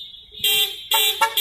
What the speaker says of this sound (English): Honking might actually render this unuploadable.